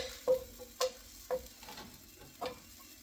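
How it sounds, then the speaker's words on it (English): Food sizzles in a wok at close range, with a steady frying hiss broken by four or five sharp clinks of a utensil stirring against the pan, and no voices. "Got the sizzling wok here."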